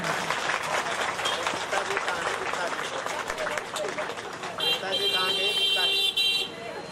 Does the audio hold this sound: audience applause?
yes